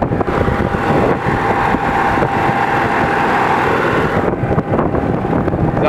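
A generator on a Huth 21 Torque T travel trailer runs steadily, a loud, even engine drone with a wind-like hiss that holds throughout without changing.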